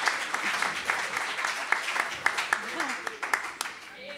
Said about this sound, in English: big round of applause for our volunteers